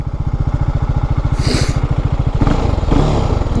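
An Apache RR 310 motorcycle engine idles with a loud, close, rapid thumping pulse, then briefly revs higher with a rising roar before settling back, no speech over it.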